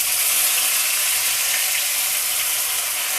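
Potatoes fry in oil in a pan for aloo dum, giving a steady, bright, hissing sizzle that stays even and close throughout, with no one talking.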